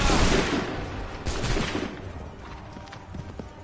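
A volley of musket fire from a line of soldiers in the game Assassin's Creed III bursts loudly at the start, then rumbles and fades into a rough, echoing tail with a few fainter cracks.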